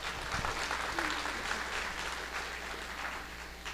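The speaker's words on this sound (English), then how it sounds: "Please give yourselves a round of applause just for being here." An audience at a family day event gives a round of applause, dense and steady clapping that holds at an even level throughout, a little loud and fairly close.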